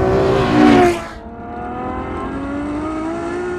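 A Ferrari F12 driven hard: the engine howls up to a loud peak, drops sharply, then settles into a steady, rising drone close to the microphone.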